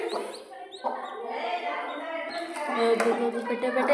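A hen and her tiny chicks cluck and peep in a steady, busy stream of close, high chirps, with a voice talking alongside throughout.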